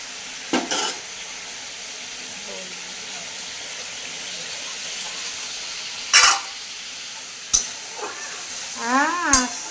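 Masala stir-fried in a pan for a curd katla fish curry: a steady low sizzle runs throughout, broken by a few sharp spatula scrapes and clatters near the end, with a faint voice murmuring in places.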